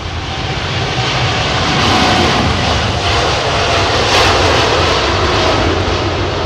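Boeing 777 freighter jet roaring loud and close on a windy arrival at Heathrow, a steady broadband engine rush that swells slightly midway, with no voices.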